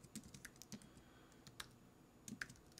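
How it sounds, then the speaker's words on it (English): Keys on a computer keyboard are tapped in short, irregular bursts, each click crisp and near but faint in an otherwise quiet room, with no one speaking. "now that I'm typing it again"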